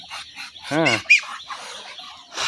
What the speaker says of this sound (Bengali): ওই যে হাঁস দেখতে পাচ্ছেন